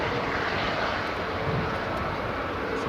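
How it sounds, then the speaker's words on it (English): A Delta Airlines Airbus A330 airliner at Edinburgh Airport's runway 24 gives a steady, broadband jet roar that holds at an even level throughout, with no one talking. "It's the first time I've seen a Delta Airlines A330 there."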